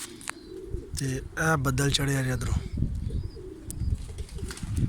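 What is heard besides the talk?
pigeons cooing and flapping while eating grain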